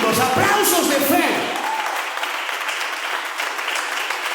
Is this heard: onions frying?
no